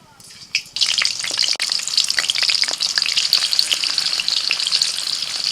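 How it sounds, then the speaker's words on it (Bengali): Boiled potatoes fry in hot oil in a pan, a loud, dense crackling sizzle that starts abruptly and keeps bubbling steadily, with occasional stirring clatter. "আলুগুলো তেলের মধ্যে ভেজে নিয়েছি"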